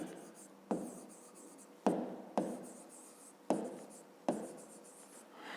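Pen or pencil strokes scratch out numerals by hand on paper during a fifth-grade maths exercise, five or six distinct bursts of writing separated by brief pauses, close and fairly quiet with no talking.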